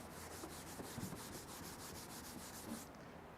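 A hand rubs back and forth over contaminated car paint, producing a steady rough scratching rasp that stops near the end, close and fairly quiet.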